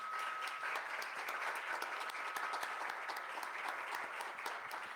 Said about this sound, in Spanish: Si quieren aplaudirles, adelante,